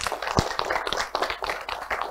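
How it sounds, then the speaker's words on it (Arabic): A studio audience on a Ramadan children's show claps for a young girl. The applause is a dense, continuous patter, fairly loud and close, with no talk over it. "أعطونا تحية، تصفيق على سيرين"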